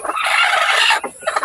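Chickens cluck loudly and close by while a rooster crows, a dense burst of fowl calls that breaks into shorter clucks toward the end.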